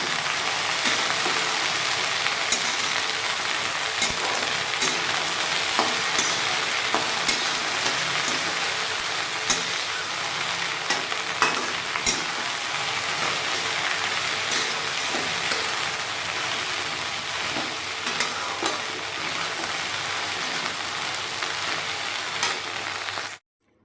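Steady, crackling sizzle of okra tempering in hot oil, continuous and close, with scattered pops throughout and no voices.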